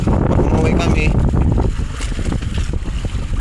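Heavy wind buffets a small boat far out at sea during a low-pressure storm, roaring and rumbling against the microphone, while a voice talks over the gusts.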